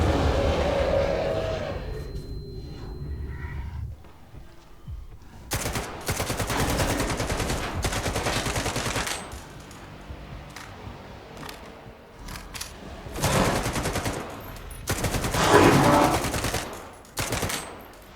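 Weapon fire in S.T.A.L.K.E.R. 2: several bursts of loud, sharp automatic gunshots separated by quieter stretches, with a rapid volley near the end, heard alone without talk.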